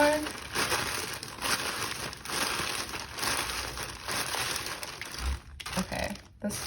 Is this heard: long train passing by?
no